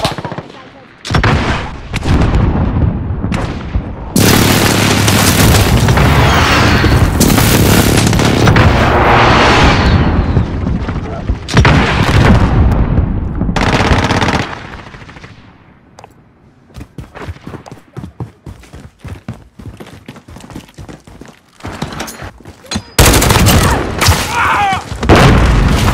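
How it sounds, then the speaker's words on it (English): Booming explosions from a precision airstrike in the shooter game Call of Duty Modern Warfare, a string of loud close blasts with gunfire bursts, fading into scattered shots and rumble before another heavy impact near the end. "Enemy precision airstrike. Take cover."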